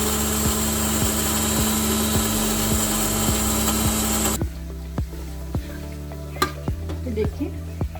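Masala spices whirring in an electric grinder: a loud, dense motor roar for about four seconds, then it cuts off and leaves scattered rattles and knocks of the jar and spices.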